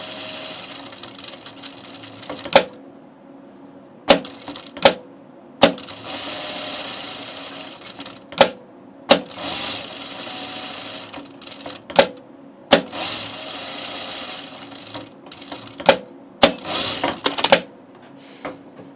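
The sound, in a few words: sewing machine sewing a shirt's perimeter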